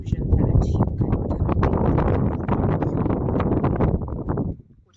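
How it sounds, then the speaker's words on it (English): Strong wind on an open, windy stretch near windmills buffets straight into the microphone, a loud continuous rumbling roar that holds for several seconds before dropping away abruptly. "So you can guess how windy it is because there are windmills."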